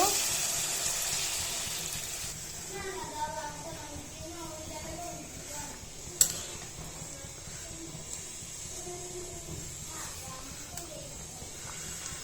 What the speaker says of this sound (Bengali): এখন পরিমাপ মতো পানি দিয়ে দিব